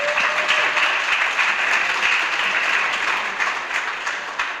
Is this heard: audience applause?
yes